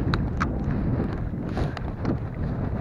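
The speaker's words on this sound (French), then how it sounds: "parce que il y a un putain de vent" Strong wind buffets a microphone outdoors on a hike leaving a village, a dense, loud rumbling roar that stays constant throughout, with no speech.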